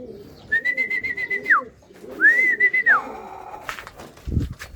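Racing pigeons at a loft during a derby, a nearby bird giving repeated soft rhythmic coos in two bursts, with light rustling and a brief thump at the end.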